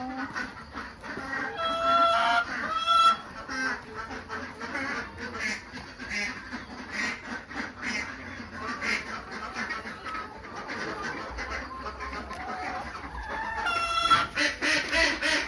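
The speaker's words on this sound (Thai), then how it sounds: "ข้างๆ ก็จะเป็นพวกเป็ดนะคะ เสียงเป็ดก็จะดังเลย" Loud, repeated quacking from a busy flock of farm ducks beside a laying-hen house, with chickens clucking mixed in and some faint background voices.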